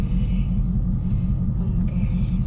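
A car engine with its exhaust deleted idling with a deep, loud exhaust rumble, steady and close, with no talking over it.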